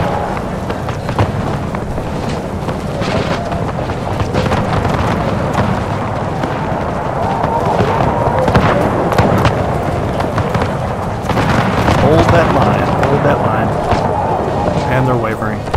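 Musket volleys crash across a massed line battle in the Empire 2 mod of a strategy game, a dense continuous roar of gunfire and clamour with someone commentating over it.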